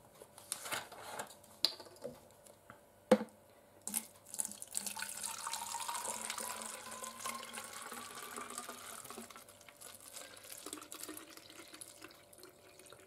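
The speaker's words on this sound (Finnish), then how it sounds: "Tähän juomaan tarvitaan aika runsaasti kylmää vettä, mutta ei kannata laittaa ihan täyteen pulloa." Cold water runs from a kitchen tap into a bottle for a squash drink, a close, continuous splashing rush that shifts in tone as the bottle fills, with a few clunks at the start and no talking.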